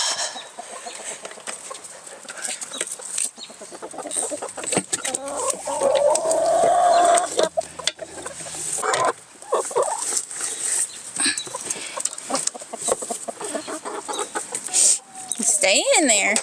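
Hens clucking inside a backyard chicken coop, a steady run of close, loud clucks and squawks, with a person talking at intervals over them.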